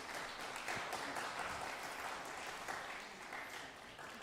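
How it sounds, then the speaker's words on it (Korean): A church congregation applauds steadily for certificate recipients during a Sunday service, a sustained wash of many hands clapping at moderate, somewhat distant volume. "수료패와 선물이 수여될 때 뜨거운 박수 부탁드립니다"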